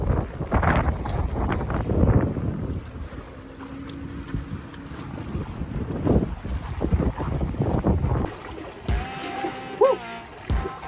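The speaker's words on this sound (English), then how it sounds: "It is very windy, so I apologize if you can't hear me." Strong gusting wind buffets the microphone at a reservoir during a fishing trip, a continuous roaring rumble throughout, with a person talking under the noise and a brief reel-like squeal near the end.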